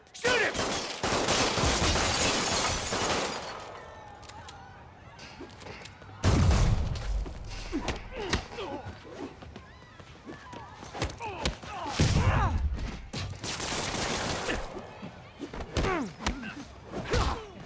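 Bursts of enemy gunfire in a Spider-Man video game, with heavy volleys and thuds at the start and again around the middle and later, mixed with shouting voices and combat noise.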